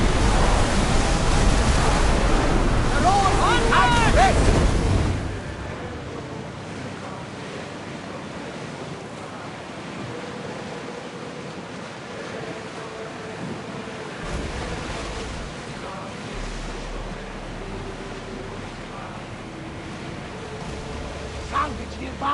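Ocean waves and wind wash steadily in Assassin's Creed Odyssey while a ship sails open water, a broad noisy roar under loud voices at the start that carries on alone and steady afterward.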